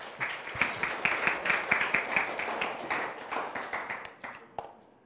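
A church congregation claps together in a steady burst of applause, dense and lively, fading toward the end.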